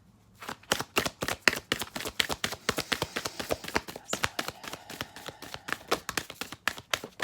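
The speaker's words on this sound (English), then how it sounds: "These cards don't want to shuffle." Tarot cards being shuffled by hand in a stubborn, resisting deck, giving a rapid run of sharp papery slaps and riffles, close and fairly loud, with no talking.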